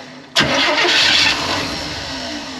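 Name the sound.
old ice cream truck engine trying to start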